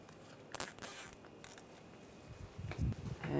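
Snipping off the excess of a plastic wire tie during a crankshaft position sensor replacement on a 2010-2016 Cadillac SRX, with a few quick close cuts and clicks spread across the moment.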